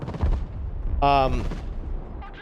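Aircraft strafing-run gunfire in the Broken Arrow real-time strategy game, a short burst with a whining pass over it, while someone talks over the action.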